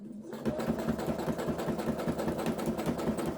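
A sewing machine free-motion stitching a quilt runs after a brief quiet start, giving a fast, even, continuous mechanical whirr with a steady stitching rhythm, close and clear with no talking.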